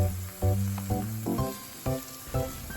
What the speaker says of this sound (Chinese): 现在反过来，另一面继续煎制。